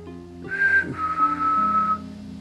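A person whistles a short two-note call, the first note higher and brief, the second held longer, clear and close.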